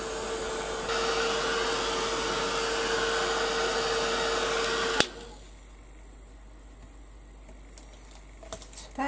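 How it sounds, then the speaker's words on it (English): A heat gun blows hot air in a loud, steady whoosh with a faint whine for about five seconds, then cuts off abruptly, leaving quiet room tone with a few small clicks. "So I'm going to blast that with the heat gun now."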